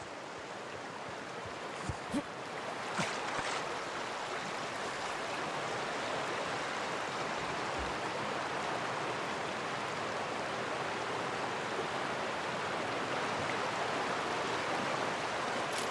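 Steady rushing roar of a waterfall in The Outer Worlds at Fallbrook, a constant broadband wash of falling water with a couple of faint clicks early on.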